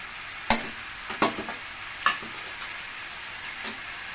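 Chicken chukka frying in a pan just after chilli powder goes in, with a few distinct scrape-and-stir clatters over a soft, steady sizzle, moderately close.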